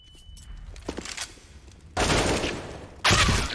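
Gunfire in the video game CS:GO, during a pro match on the Train map, with a faint shot early on, then two loud, dense bursts of automatic fire.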